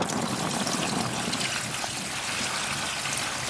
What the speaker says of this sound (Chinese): 再倒水。